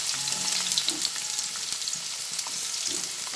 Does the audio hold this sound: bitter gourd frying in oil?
yes